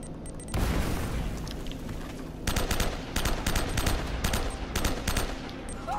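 In the video game Uncharted: Drake's Fortune, a grenade goes off with a dull boom, followed by repeated bursts of rapid gunfire at moderate distance.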